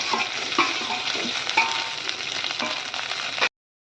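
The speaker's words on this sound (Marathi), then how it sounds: "मिरची छान झाली की बटाटा टाकून घेऊया" Potatoes fry with cumin and green chili in a pan, a bright continuous sizzle with occasional crackles and spatula scrapes, cutting off abruptly near the end.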